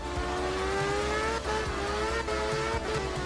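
A rotary-engine car in a racing video game revs steadily with a buzzing, high-pitched drone, shifting pitch a few times across the stretch, loud and continuous with faint tire noise and no talking.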